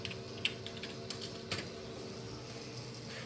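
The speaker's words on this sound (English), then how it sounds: "let me just type WinVer really quickly" Quick keystrokes on an old Windows 98 PC keyboard, a short burst of light clicky taps with a few louder presses, close and alone without talk.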